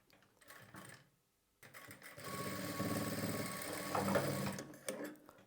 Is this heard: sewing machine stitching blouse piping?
yes